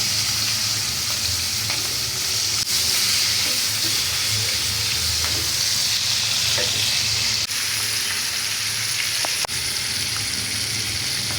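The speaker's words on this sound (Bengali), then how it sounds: "বাকি চিংড়ি মাছও আমি হালকা করে ভাজবো" Shrimp frying in hot oil in a pan, a steady loud sizzle with bubbling and spitting throughout, with a few faint clicks and no voices.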